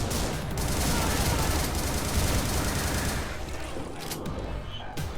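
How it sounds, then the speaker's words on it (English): Dense, continuous gunfire in the video game Butcher, a loud, sustained barrage of rapid shots and blasts with no pauses, ending in a few separate bangs. "I'm taking shots from across the map"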